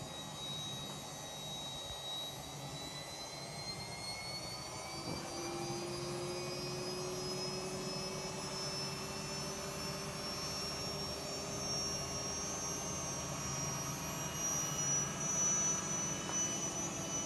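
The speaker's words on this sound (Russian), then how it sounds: "она отжимает на максимальных оборотах" A Miele W3241 washing machine spins at its maximum speed, giving a steady, loud mechanical whine and hum with a slowly rising high-pitched tone, continuous throughout.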